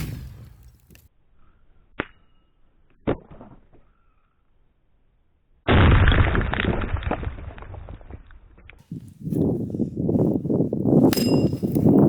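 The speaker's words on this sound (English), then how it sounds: "let's see what will happen when we take the beton mine, concrete mine, put a hand grenade fuse and basically turn it into a giant hand grenade" A German WW2 Sto.Mi.43 concrete mine fitted with a hand grenade fuse explodes outdoors in a sudden loud broadband blast that rumbles on for about three seconds, following two sharp clanks, with scattered debris and rustling noise afterward.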